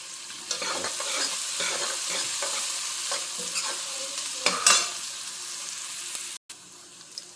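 Onions sautéing in a pan with a pinch of salt for a hotel-style vadacurry, a steady close sizzle broken by repeated scraping stirs, with one brief cut near the end.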